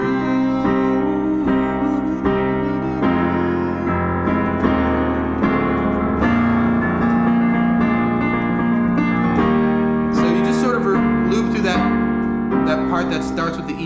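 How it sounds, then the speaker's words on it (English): Solo piano plays the guitar solo section of a song, a steady harmonic line over sustained low chords, close and moderately loud throughout. "now this is the part where the guitar solo comes in."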